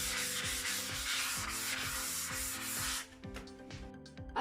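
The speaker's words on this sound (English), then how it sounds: "once you go very lightly and sand this roughness smooth" Sandpaper rubs by hand across a painted furniture surface in steady back-and-forth strokes, close and loud; the scraping rhythm softens and breaks up near the end.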